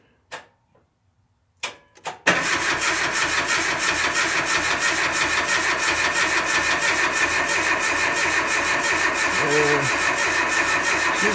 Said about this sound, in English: She's cranking.